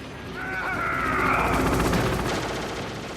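Gunfire in Metal Gear Solid during a fight with a Hind D helicopter, a sustained rattling burst of rapid shots that swells and fades, with a whining mechanical tone layered over it.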